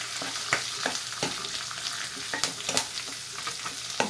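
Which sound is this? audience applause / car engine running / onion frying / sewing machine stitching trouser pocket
onion frying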